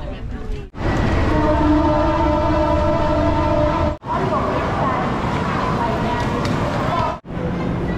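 Laos-China railway train at a station platform, a loud sustained rumble with steady tonal hum, broken by brief dips, as a train stops at a place other than a regular station.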